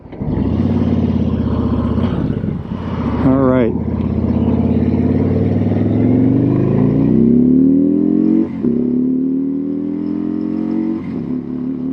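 A Harley-Davidson Tri Glide Standard motorcycle trike engine roars close by and climbs steadily in pitch as it accelerates, with a brief shift dip; a voice speaks briefly over it.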